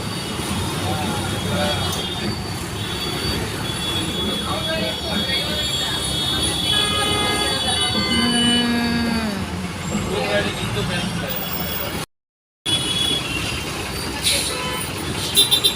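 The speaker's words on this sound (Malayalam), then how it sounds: "ഭയങ്കര ട്രാഫിക്കാണ്." Heavy road traffic at a busy circle with buses, drawn-out horn toots and hissing air brakes over a steady engine rumble, with people talking throughout and a brief dropout near the end.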